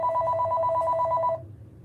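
A telephone rings with a steady electronic trill, close and clear, over a low background hum, then stops abruptly partway through.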